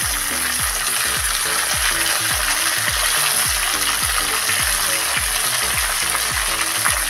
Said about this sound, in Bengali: টমেটোটা ভালো করে আমি তেলেতে ভেজে নেব।